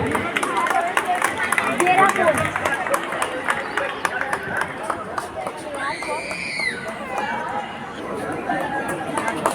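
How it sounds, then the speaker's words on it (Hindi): Residents at a housing society's 75th Independence Day celebration clap in a steady run of applause amid crowd chatter and background voices. "जोरदार तालियों से बजाइए"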